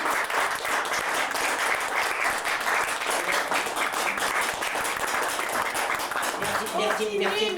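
Generous audience applause fills a theatre during a live comedy stage show, dense steady clapping sustained throughout, with a voice speaking briefly near the end.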